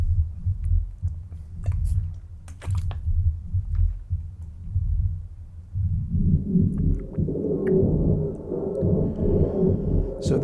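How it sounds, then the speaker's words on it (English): Audio is run through a real Z-plane filter sampled into an EMU, set as a fourth-order low pass, giving dark, muffled low rumbling pulses that open up into a brighter, fuller wash in the second half. "So this is the sound of a real Z-plane filter."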